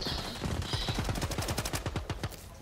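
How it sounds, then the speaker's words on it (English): A fast automatic weapon fires steady, evenly spaced shots in the Rogue Company shooter game. The rattling burst runs throughout at a moderate, fairly close level with no voices. "Somebody shooting from the back of us?"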